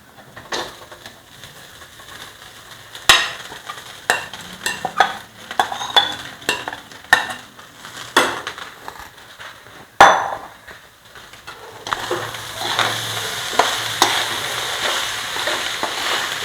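A spoon stirs and scrapes cooked rice into an amla mixture in a pan, giving irregular close clinks and knocks against the metal with soft rustling and a faint sizzle between strikes.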